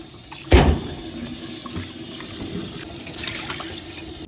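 Rice being washed in water, with one sharp splash and swirl near the start followed by softer trickling and sloshing, close and fairly quiet.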